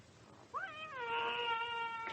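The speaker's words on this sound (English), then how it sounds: "How many cats have you got in here?" A cat in a smelly room crowded with dozens of mangy cats lets out one long, rising-and-falling meow, fairly close and clear over a quiet background.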